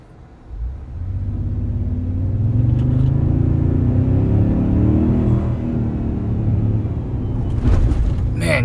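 A 2022 Toyota Tundra Platinum Hybrid accelerates from inside the cab, its turbocharged engine spooling up into a steady, loud rumbling drone that holds for several seconds, with a brief sharp noise near the end.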